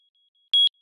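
A single short, high electronic beep from the alarm of a Luminex Sheath Delivery System on a Luminex 200, clear and close against near silence, consistent with its slow beeping mode.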